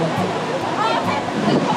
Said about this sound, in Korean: 우리가 폭포를 아무리 많이 봐도 이거는 너무 또 다르다